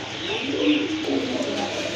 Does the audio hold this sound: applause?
no